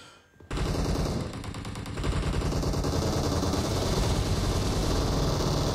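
Sustained automatic 7.62 rifle fire in PUBG Mobile starts abruptly after a brief quiet moment, then forms a loud, dense, unbroken stream of shots that grows heavier halfway through and continues to the end.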